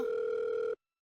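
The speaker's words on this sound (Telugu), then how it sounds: "ఫోన్ రింగ్ అవుతుంది కానీ మీ అన్న ఫోన్ ఎత్తుతలేడే" A single electronic phone ring tone sounds as a steady two-pitch beep for under a second, then cuts off abruptly into silence.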